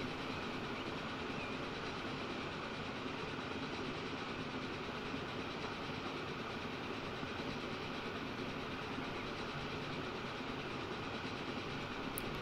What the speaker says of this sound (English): There's a passenger train on the right there.